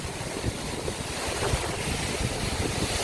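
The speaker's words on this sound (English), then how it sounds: "It's windy." Wind blows hard near Hatta Dam and Leem Lake in the UAE, producing a loud, continuous buffeting rumble against the microphone with rough gusts throughout.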